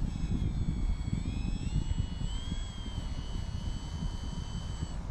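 Electric motor and propeller of an AVIOS HobbyKing Albatross HU-16 V2 RC model seaplane, a steady high whine with a slowly shifting pitch over heavy wind noise on the microphone, with no talk.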